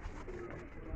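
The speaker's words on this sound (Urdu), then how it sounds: "ان کے پاس سیالکوٹ کبوتروں کا بھی بہت بڑا خزانہ ہے" Sialkoti pigeons coo softly on a rooftop loft, a low rounded coo rising briefly through faint background noise in a short, quiet moment.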